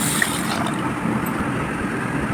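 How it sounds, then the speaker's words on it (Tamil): Water poured over soaked urad dal and fenugreek seeds in a bowl, a steady close splashing, gurgling fill lasting the whole stretch. "இப்போ நம்ம இதை முழுகிற அளவுக்கு தண்ணி ஊற்றிடலாம்."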